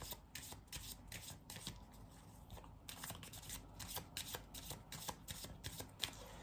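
Oracle cards are shuffled and drawn by hand, soft repeated riffling and flicking of card stock up close, steady and quiet with no talk.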